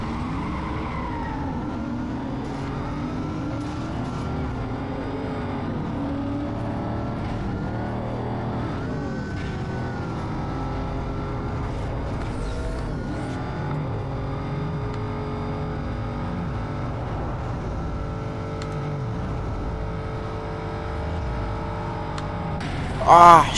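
Engines of cars in a drag race in Need for Speed Most Wanted (2005), a continuous roar with pitch rising and dropping through gear shifts, steady and loud for the whole stretch.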